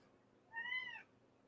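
A house cat gives a single drawn-out meow, moderately faint against a quiet room hum, with no talking.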